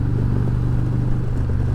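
A motorcycle engine drones steadily and close by, a low rumbling hum holding an even level throughout with no talking.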